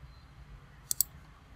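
Two quick, crisp clicks a split second apart from a computer mouse during Windows Server 2016 setup, close and clear against a quiet room hum.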